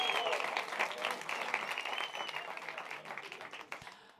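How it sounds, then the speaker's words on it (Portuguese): An audience claps and cheers at a public event, with a dense burst of applause at the start that gradually thins and fades toward the end. "Uma salva de palmas para ele,"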